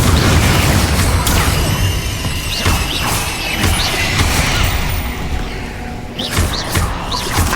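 Confringo fire spell blasts in the video game Hogwarts Legacy, a loud continuous barrage of booming explosions and crashing impacts over game effects, with several sharp bursts near the end.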